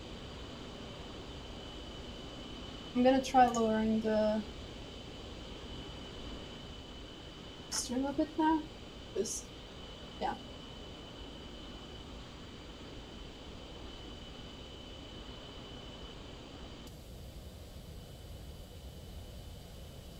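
Steady jet engine drone and whine from an airplane in DCS World hums throughout at moderate loudness. Someone talks briefly over it in a few short bursts.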